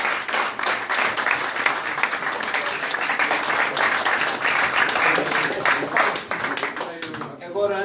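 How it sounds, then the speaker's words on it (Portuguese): An audience at a talk breaks into dense, sustained applause, many hands clapping together loudly and evenly before it thins out near the end. "eu peço uma salva de palmas"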